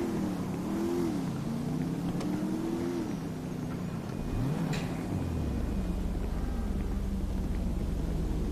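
A car engine hums steadily while driving in GTA V Online, with the pitch rising and falling through gear changes before settling into a lower, rougher drone.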